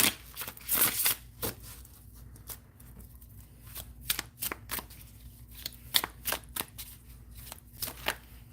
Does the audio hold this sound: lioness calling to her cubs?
no